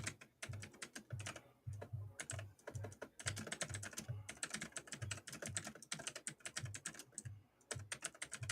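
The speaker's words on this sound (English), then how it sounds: "literally typing that as you sent it." Rapid typing on a computer keyboard clatters nearby in quick, uneven bursts of key clicks with brief pauses, continuous and fairly quiet with no talk.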